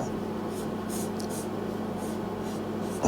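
A pen scratches across paper in short quick strokes, faint and close, over a steady hum of workshop background.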